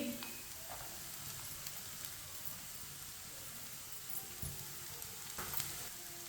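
A cup of finely chopped cabbage fries in a pan over lowered heat, giving a faint, steady sizzle and hiss with a few soft bumps of movement.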